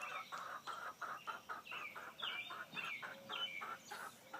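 Backyard chickens cluck in quick, overlapping bursts close by, a busy rhythmic chatter of several birds with no talk over it.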